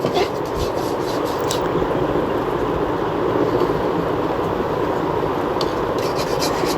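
Loitta dried fish bhuna is stirred and fried in a pan, giving a constant close scraping and sizzling rasp with no breaks.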